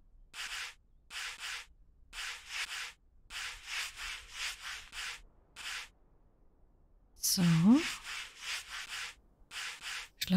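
Repeated short strokes of sandpaper rubbing a wooden block in the game Workshop Simulator, steady rhythmic bursts with brief pauses, followed by a quick whoosh-like sweep; someone speaks a word at the start.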